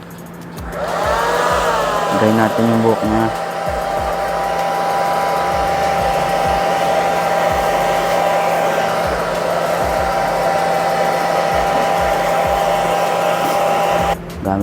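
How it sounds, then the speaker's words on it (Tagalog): A hair blower roars loud and close as it dries hair during a two-block haircut, a steady whooshing drone after a brief start, with a short spoken remark early on. "Okay, gamit tayo ng blower."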